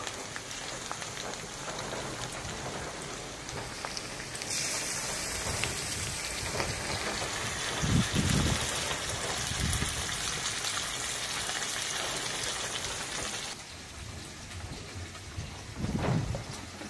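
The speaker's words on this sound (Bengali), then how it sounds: "এবার ম্যারিনেট করা চিকেনটা দিয়ে দেবো। প্রথমে চিকেনটা দেবো।" Marinated chicken lands in a pan of fried onions and sizzles in a dense, rain-like hiss that grows louder partway through, with a few soft clatters over the frying.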